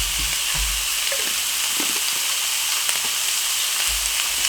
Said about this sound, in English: we're going to get this meat browned up